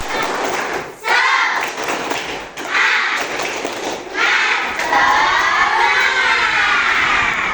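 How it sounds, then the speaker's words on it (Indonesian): Children in a classroom do tepuk semangat, a rhythmic spirit clap, in bursts of claps, thumps and shouted chanting that come in waves, fairly loud and close throughout. "mari kita lakukan tepuk semangat. Tepuk semangat."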